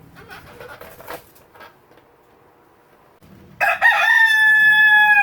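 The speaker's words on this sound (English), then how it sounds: "He's a mean rooster." A rooster crows loudly and close by outdoors, one long sustained cock-a-doodle-doo that bursts in after quiet talk and faint background sounds.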